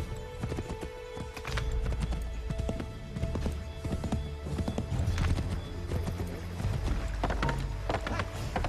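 Horse galloping in the video game Assassin's Creed 3, with fast repeated hoof clip-clops, a whinny, and game music and effects layered underneath, loud and continuous throughout.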